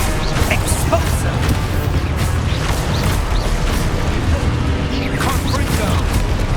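A blasting spell explodes in Hogwarts Legacy on PS4, a loud continuous rumbling burst with crackling debris that stays dense throughout, with an incanting voice and other spell effects layered over the battle noise.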